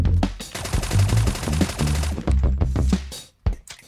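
Razorback SMG in Call of Duty Mobile firing rapid automatic bursts, loud and close, a long stream of shots followed by a short pause and a few final shots.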